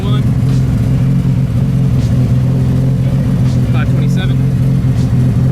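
An 1100-horsepower Mitsubishi Evo IX with a sequential gearbox, running 50 psi of boost on E85, roars loudly and steadily on a dyno with a constant heavy drone, while people talk nearby.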